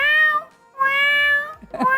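A person's voice imitates a mother cat calling her kittens with two drawn-out, close meows separated by a short pause, then a brief squeaky chirp at the end.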